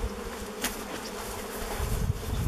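Honeybees buzzing inside a hive left unopened for over thirty years, a dense, continuous droning hum close by with no voices.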